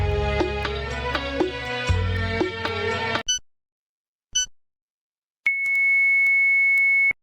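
Music plays, then breaks off, and a few short radio time pips sound one by one with silence between them. A long, steady electronic tone follows, the beep signalling the iftar hour on a Mauritian radio broadcast.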